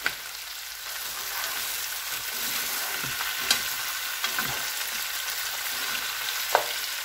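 Mutton sizzles steadily in a pan while being stirred with dried fenugreek and fresh coriander, a continuous close frying hiss broken by occasional scraping knocks of the spoon, no talking.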